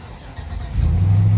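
A car with a check engine light on, apparently a model built for a third-row seat, cranks and fires up, its engine catching loudly and settling into a strong, steady idle rumble.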